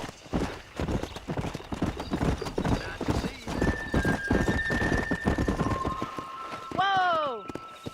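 A horse gallops in Red Dead Redemption, hooves pounding in a fast, rolling clip-clop that slows before a loud neigh near the end; voices talk over the hoofbeats early on.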